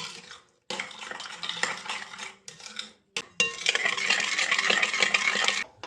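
A utensil scrapes and clinks against a bowl in several bursts of stirring, separated by short pauses, close up.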